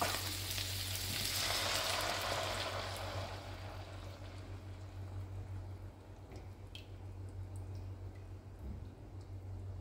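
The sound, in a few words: coconut milk simmering in a pot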